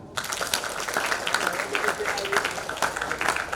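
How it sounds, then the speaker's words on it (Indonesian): An audience of young people at a talk on preventing child marriage claps hands in a steady, dense patter that runs the whole stretch, mixed with voices talking over it. "Tepuk tangan."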